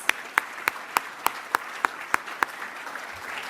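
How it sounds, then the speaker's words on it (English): Audience at a Toronto Region Board of Trade luncheon applauds the event sponsors: a run of sharp, evenly spaced claps that stand out over a faint crowd wash, then die away. "A round of applause for these important sponsors, please."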